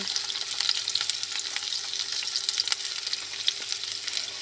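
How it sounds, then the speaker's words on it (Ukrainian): Steady sizzling and crackling of dumplings frying in a hot pan, with continuous spitting pops, close and even throughout. "Так, накриваємо та смажимо до золотистої корочки з коринки."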